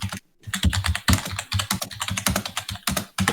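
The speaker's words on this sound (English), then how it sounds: "Whoever's typing, can you mute yourself while you're doing that?" Rapid computer keyboard typing picked up by a microphone during an online tabletop role-playing session, loud and close, with dense bursts of keystrokes broken by brief pauses and no talking.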